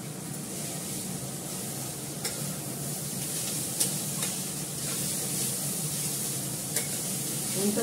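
Chowmein frying in a pan with onion and carrot, a steady close sizzle and hiss with occasional faint clicks of stirring throughout.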